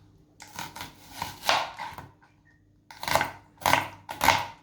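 A knife chops onions into small pieces on a board for a vegetable khichdi, making sharp, close, rhythmic strokes in two bursts separated by a short pause.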